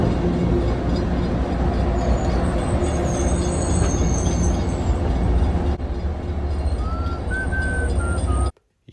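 A long train rumbles steadily, with high wheel squeals rising near the end before the sound cuts off abruptly.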